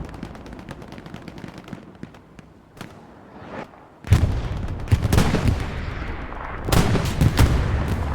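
Rapid machine gun bursts and heavy booming explosions in a WWII video game battle on Omaha Beach, loud and dense, with a big blast at four seconds followed by sustained chaotic firing.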